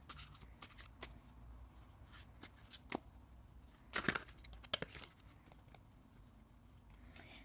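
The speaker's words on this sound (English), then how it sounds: "So let's just shuffle the cards." Tarot cards are shuffled quietly close by, in brisk riffling bursts separated by short pauses.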